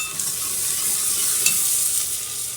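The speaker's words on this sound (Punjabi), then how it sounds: "ਕਿੰਨੀ ਆਵਾਜ਼ ਆਈ ਹੈ ਕੜੀ ਪੱਤਿਆਂ ਦੀ" Curry leaves crackle and sizzle loudly in hot oil over a village earthen chulha as a tempering for pakora kadhi, a dense continuous spatter heard close by with no talking.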